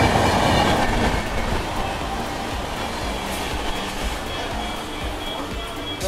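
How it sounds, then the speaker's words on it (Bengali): The Digha train pulls late into a quiet station with a loud, continuous rumble of rolling wagons and clattering wheels, steady throughout. "আপাতত দীঘার ট্রেন দিয়ে দিল, আজকে লেটে ঢুকেছে"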